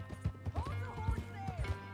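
Horse hooves clip-clop in a quick, steady gallop rhythm in the Red Dead Redemption 2 western video game, with a short whinny-like tone above them and a low steady hum underneath.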